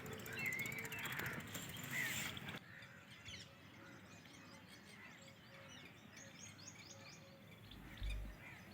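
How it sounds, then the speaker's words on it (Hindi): Many birds chirp and call from an old tamarind tree, scattered tweets and short calls overlapping at moderate distance against a low outdoor background, with a brief thump near the end. "बहुत सारे पक्षियों की, बर्ड्स की आवाज़ आ रही है यहाँ पर"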